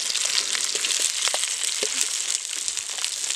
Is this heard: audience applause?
no